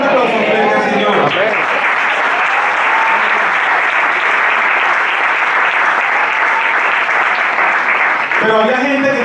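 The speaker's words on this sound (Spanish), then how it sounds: "Un aplauso fuerte al Señor." Loud, sustained applause fills a church Sunday service as the congregation claps for the Lord, steady and dense throughout, with a voice heard briefly at the start and end.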